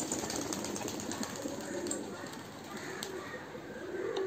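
Racing homer pigeons coo in their cages, a steady soft murmur of overlapping calls from several birds, close and continuous, with faint rustling in the background.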